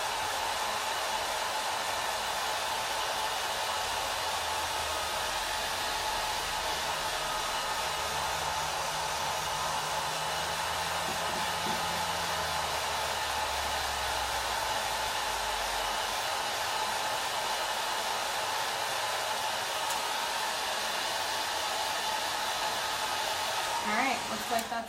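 A hair dryer runs continuously for about twenty-five seconds, drying chalk paste on a wreath, a steady loud airy whoosh with a faint motor hum that wavers slightly before a brief click at the end.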